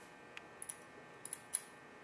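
After oiling, a trumpet valve is turned until it clicks into place, giving a few faint, sharp little clicks and taps close by in a quiet room.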